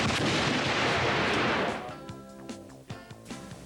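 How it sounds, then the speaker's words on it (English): Live hand grenades exploding during Army basic training at Fort Jackson. A loud, rumbling blast fades out over about two seconds, followed by a few faint sharp pops in the distance. "each trainee throwing 2 live hand grenades"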